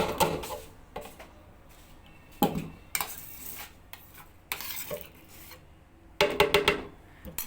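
Thick homemade cream (malai), set aside for a mango ice cream, is scooped into a jug in close, intermittent bursts of scraping and clinking utensil strokes against the container, separated by short quiet gaps.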